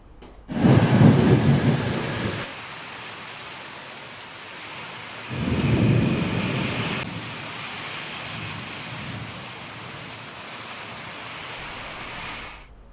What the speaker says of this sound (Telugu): ఈదురుగాలులు కూడిన భారీ వర్షం కురిసింది